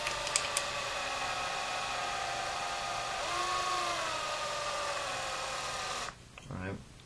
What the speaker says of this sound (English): Now I need to drill through that.